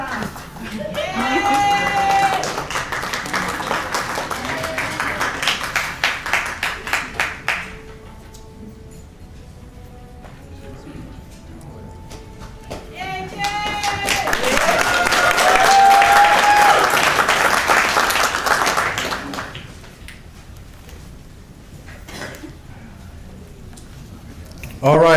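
Audience applause for students at a school event, two loud swells of crowd clapping with some cheering, separated by a quieter stretch with a voice speaking over it.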